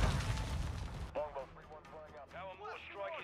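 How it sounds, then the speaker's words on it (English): A stun grenade goes off in Call of Duty: Modern Warfare II, a loud booming burst at the start that quickly fades, followed by game voice callouts over quieter background noise. "Throwing a stun grenade!"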